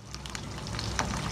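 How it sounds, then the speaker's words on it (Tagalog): Hot dogs frying in a pan, a steady close sizzle and crackle with small pops, continuous for a short stretch. "ito na po ang hot dog na niloloto ko"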